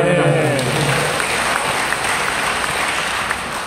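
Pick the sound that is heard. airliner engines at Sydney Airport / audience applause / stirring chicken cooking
audience applause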